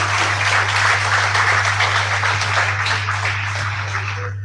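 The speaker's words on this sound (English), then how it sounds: "Round of applause for all of us." Audience at a 75th foundation day celebration giving a round of applause, a thick, steady patter of many hands over a constant low electrical hum, fading slightly toward the end.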